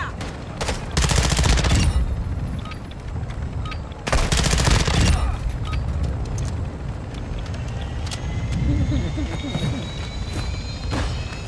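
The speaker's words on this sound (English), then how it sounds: "Taking effective fire." Heavy automatic gunfire in the Call of Duty DMZ video game, with loud sustained bursts and scattered shots, a vehicle rumbling underneath and voices talking over the firefight.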